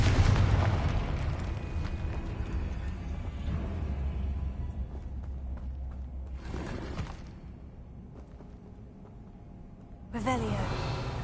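Confringo fire spell blast in Hogwarts Legacy, a loud, broad rumbling explosion swelling and fading over several seconds, with a second burst near the end and constant game noise beneath.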